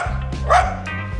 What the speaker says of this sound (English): That little dog seemingly wanted to take my head off.